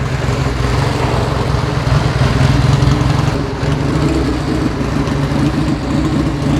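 An Indian Scout motorcycle pulls away in first gear, its engine a loud, steady low rumble that holds close and continuous throughout with a slight swell in the middle.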